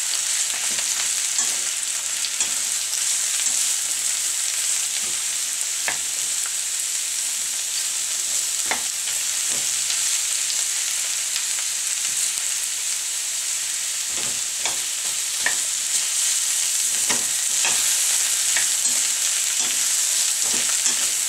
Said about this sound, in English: We'll stir fry these for about a minute.